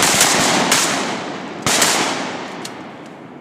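Shotgun blasts ring out during a duck hunt in flooded green timber, a few sharp reports with one loud shot partway through, each trailing off in a long echoing decay outdoors, with no talking.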